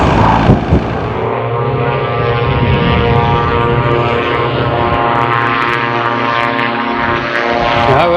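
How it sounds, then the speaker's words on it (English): Propeller plane taking off at Gloucester Airport, a loud steady droning engine hum with strong tonal harmonics sustained throughout, fairly close and unbroken by speech. "there's a plane taking off"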